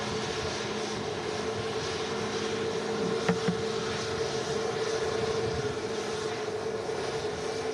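A shiny Boeing 737 MAX airliner at Manchester Airport on a windy day gives a steady, broad engine roar with a low tonal hum, holding evenly throughout with no talk.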